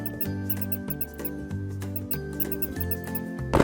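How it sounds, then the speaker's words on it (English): A pet hamster gives small, high squeaks over cheerful children's background music, the tiny calls light and close, with a brief louder rustle near the end. "It's a hamster."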